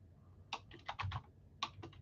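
Fingers tap a computer keyboard in two short bursts of quick, close clicking keystrokes separated by a brief pause, with no voices over them.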